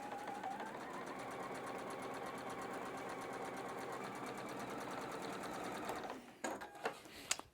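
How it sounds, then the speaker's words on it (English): A sewing machine runs steadily, stitching fabric straight down a chalk line while piecing a flying geese quilt block, a fast even mechanical whir close by, ending with a few clicks and thumps as the work comes off. "I'm going to sew down the center of that chalk line"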